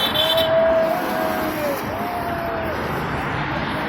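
A car horn honks in a couple of drawn-out blasts over steady traffic and street noise, moderately distant.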